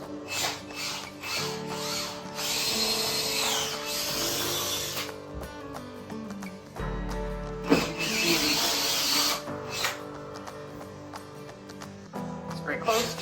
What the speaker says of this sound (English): So let's just drill in the holes.